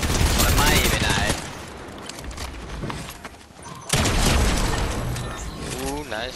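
Rapid video game gunfire rattles in loud sustained bursts with mechanical clatter, easing briefly before another heavy volley, while players talk over it.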